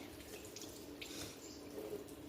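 Hands washed under a running household tap, a steady soft wash of water splashing into a sink with faint drips, close and continuous with no talk.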